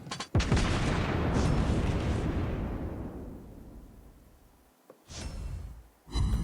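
Tank cannon fire in World of Tanks Blitz, one heavy booming shot at the start that rolls out over several seconds, followed by two shorter blasts near the end, loud with no talking.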